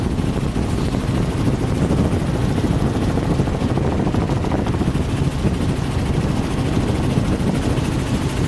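Constant, loud rotor thump of a helicopter overhead, a dense rhythmic chopping that fills the whole stretch without pause.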